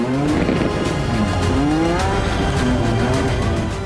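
Cars roar through a film car-chase stunt sequence on narrow hillside town roads, with loud continuous engine noise and brief tire squeals, and no talk.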